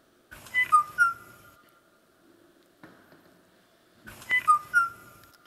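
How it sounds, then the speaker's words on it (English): A Hawaii O'o bird sings two clear whistled phrases separated by a pause, each a few fluting notes ending in a sustained tone, with a faint softer call between. "It is the Hawaii O'o bird."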